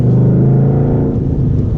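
A 2012 Ford Mustang Boss 302 pulls in first gear with a deep, loud, throaty engine rumble that holds steady and close throughout the short burst.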